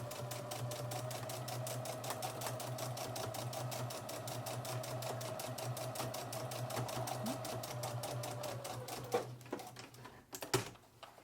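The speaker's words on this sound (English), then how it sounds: "Finally, we'll top stitch the entire mask." A sewing machine top stitches around a pleated fabric mask in a steady, rapid, even run of needle strokes that stays close and continuous, breaking into a few irregular clicks and thumps near the end.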